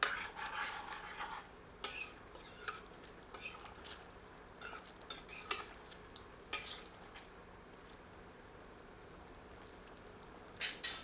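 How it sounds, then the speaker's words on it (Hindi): A metal ladle scrapes and clanks against a kadai while mutton curry is stirred over medium heat, giving irregular rasping strokes and sharp knocks that come in bursts with quieter pauses between. "आंच मध्यम रखते हैं और करछी चलाकर सबको मिला देते हैं।"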